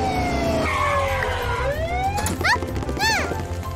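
A cartoon police car siren wails in rising and falling sweeps over lively background music, loud and close.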